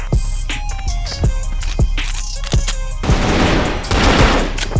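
Video game gunfire in a multiplayer bomb-defusal match, rapid bursts of automatic shots and single loud cracks layered densely together, with a heavier sustained volley near the end.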